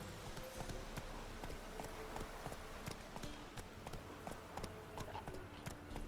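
Horse Roach galloping in The Witcher 3, a rapid, continuous run of hoof clip-clops over a dense game soundscape, fairly quiet overall, no talking.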